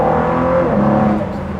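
Ford GT Heritage Edition sports car driving, its engine giving a loud, close, rumbling drone with a shifting pitch that eases off slightly toward the end.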